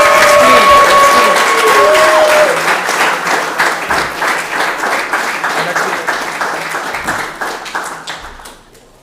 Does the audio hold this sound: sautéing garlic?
no